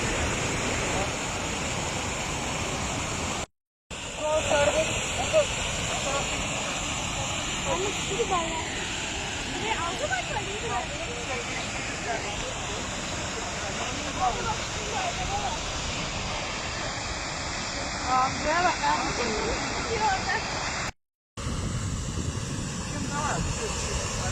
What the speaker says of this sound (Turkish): Sıradaki durağımız Aşağı Düden Şelalesi.